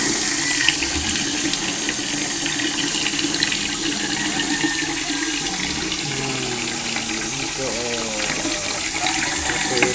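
Tap water pours steadily into a sink, a constant rushing splash lasting throughout, with faint indistinct voices in the background.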